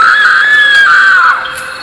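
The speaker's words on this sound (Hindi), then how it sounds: "जो उसने देखा उसे देखकर वो जोर से चीख पड़ी" A woman's long, loud scream of fright rings out alone, rising and holding high before trailing off with a faint echo.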